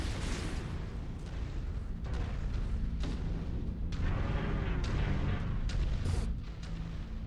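Heavy gunfire and booming explosions from the MechWarrior 5 video game, a dense, continuous battle with repeated loud blasts and bursts of weapon fire layered over a rumbling low-end roar, with no speech.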